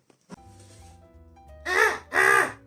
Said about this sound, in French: C'est le bruit de la chauve-souris.